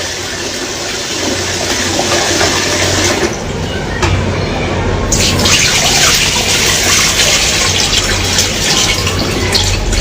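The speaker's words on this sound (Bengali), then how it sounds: "আমি এখন চাল ধুচ্ছি" Rice being washed by hand in water in a home kitchen, a continuous swishing, trickling wash with a steady low background hum and a brief lull midway.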